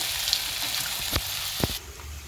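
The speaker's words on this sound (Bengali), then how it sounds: "এবার পেঁয়াজটা একটু ভাজা ভাজা হবে" Onions crackle and sizzle steadily in hot oil, a continuous hissing fry with a couple of faint knocks from a utensil.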